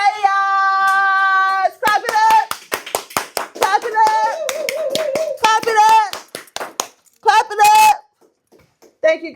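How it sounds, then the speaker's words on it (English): Rhythmic hand claps ring out in a steady beat, layered over tuneful voices or music during a lively podcast sign-off, with speech weaving between the claps. "Clap it up. Clap it up."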